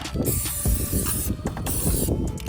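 White spray paint hisses from an aerosol can onto Nerf blaster parts in several close, loud bursts separated by brief pauses and faint handling clatter.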